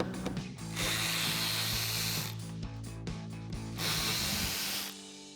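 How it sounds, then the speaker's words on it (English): A 7mm socket ratchet clicks rapidly in long runs while backing out trim screws in the front wheel well of a 2021-2023 Ford F-150, close and loud with brief pauses between bursts. "So we're gonna grab our 7mm socket, remove those first."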